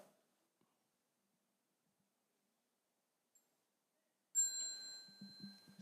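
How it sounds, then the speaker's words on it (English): A small bell is struck once during a family retreat gathering, ringing out clear and sustained after a long near-silent stretch, with faint low murmurs and shuffling underneath. "When you hear the sound of the small bell"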